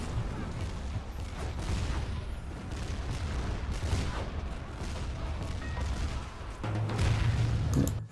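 Explosions from Ember Strike attacks in the strategy game BattleForge, with dense rumbling blasts and crackling impacts that stay loud and continuous throughout, swelling near the end.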